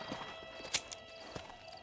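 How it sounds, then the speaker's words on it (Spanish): A horse in the video game Red Dead Redemption gives a few quiet hoof clip-clops and a brief snort-like burst, faint and close with no talk. "Mi caballito."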